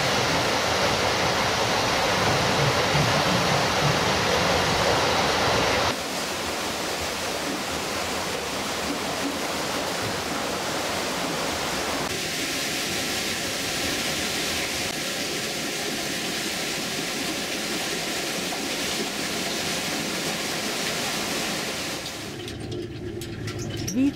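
An undershot mill water wheel, 5.4 metres across and turning about seven times a minute in a mill courtyard, sits amid steady rushing water that drops in level partway through, with a faint hum later on.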